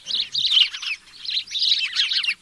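A house sparrow gives two bursts of bright, rapid chirping, close and fairly clear, separated by a brief gap, with no voices.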